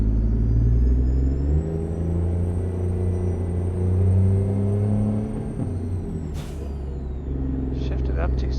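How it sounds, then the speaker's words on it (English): Truck engine in American Truck Simulator racing on a track, a loud droning rev held high against the limiter with the pitch stepping and wavering, ending in a brief hiss of air, while someone talks over it. "Just hitting the rev limiter there."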